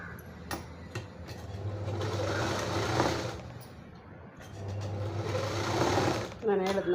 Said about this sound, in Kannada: ಅಷ್ಟರಲ್ಲಿ ನಾನು ಒಂದು ಸ್ವಲ್ಪ ಬ್ಲೌಸ್ ಇದೆ ಅರ್ಧ ಹೊಲಿಯೋದು, ಅದನ್ನು ಹೊಲ್ದು ಮುಗಿಸ್ಬಿಡ್ತೀನಿ